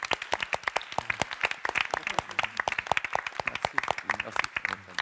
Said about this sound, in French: je vous propose qu'on se applaudisse tous de nouveau